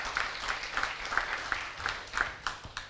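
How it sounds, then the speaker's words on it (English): Faint, rhythmic clapping from an audience at a book and DVD launch, evenly spaced claps about three per second, distant and soft against a quiet room. "Shall we give him a round of applause?"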